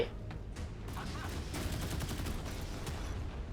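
Rapid automatic gunfire from a warship's auto-locking deck gun shooting at aircraft in the mobile naval combat game Modern Warships, a dense continuous burst of close, loud shots lasting several seconds.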